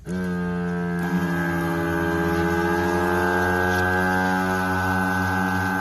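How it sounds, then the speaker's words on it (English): An electric vacuum cup lifter for a handling cart drones steadily as it draws down to full vacuum, a loud continuous tonal hum with a slight pitch shift early on, no talking. "Wait for it to draw a full vacuum."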